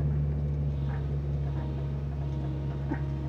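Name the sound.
demolition vehicle engine running and shaking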